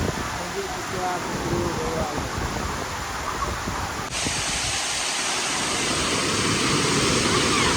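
Nhavankond waterfall near Talavade village pours with a steady, loud broadband rush of falling water, continuous and close throughout with no pauses, its tone brightening slightly partway through.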